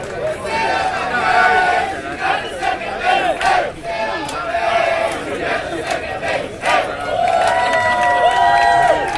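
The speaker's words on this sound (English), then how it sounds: "A colorful cheer from the folks from Orlando" Fans from Orlando send up a loud, chanting cheer at a baseball championship game in Dallas, rhythmic shouts and whoops from a crowd rising and falling over several seconds, with commentary talk underneath.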